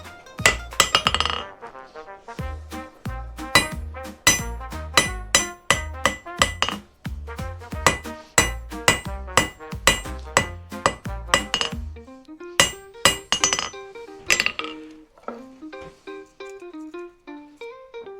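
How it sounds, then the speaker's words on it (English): Hammer blows ring out on hot steel on an anvil while forging a slot punch, in a steady rhythm, sharp metallic clangs with bright ringing tails, then a few slower, lighter taps. "I'm gonna take it like maybe 2 hammer swings more."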